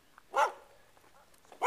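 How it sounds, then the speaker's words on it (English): A neighbour's dogs bark in two loud, close bursts separated by a short lull, with faint yips between them. "You don't have to be barking all the time."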